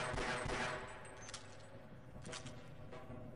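Gunfire in the Half-Life video game, a faint burst of rapid shots followed by a few scattered cracks against a quiet background.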